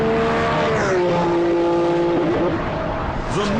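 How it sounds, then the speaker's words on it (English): A Ferrari Enzo's 6-litre, 650 bhp V12 engine howls and revs hard, its pitch dropping through a gear change then climbing again, loud and close. "The monster making that torrent of sound is a 6-litre V12 that develops 650 brake horsepower"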